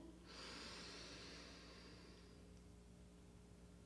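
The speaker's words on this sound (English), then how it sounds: "Take a nice deep breath in and out." A deep breath drawn in and let out, a soft, close airy inhale swelling then easing into a long fading exhale, alone and faint.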